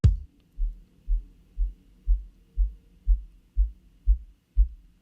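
A kick drum filtered down to its low end around 50 hertz thumps in a steady pulse, about ten soft, booming beats evenly spaced, deep and muffled with no other sound.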